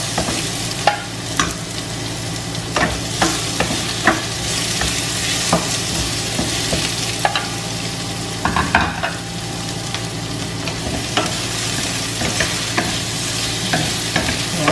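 Onions and lemongrass sauté in a pan for a coconut-milk lobster dish. The sizzle is steady and close, broken by repeated scraping and clacking stirs, with no one talking.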